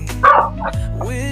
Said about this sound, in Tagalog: Aso ko, maingay.